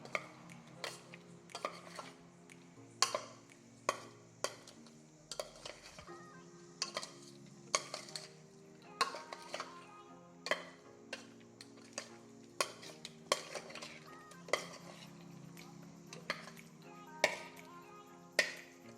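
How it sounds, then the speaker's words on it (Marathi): A spoon stirs tilapia fish pieces in a marinade with added cornflour, producing steady taps and clinks against a metal bowl at an irregular rhythm, close and quiet, with no voices. "एक चमचा आधी टाकला त्यानंतर हा एक चमचा आणि हा मिक्स करून घ्यायचा पुन्हा"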